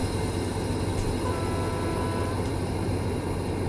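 A locomotive pulls away in Train Simulator Classic on the Taurus Mountains route, a steady low rumble of engine and rolling stock holding at an even level with no talk.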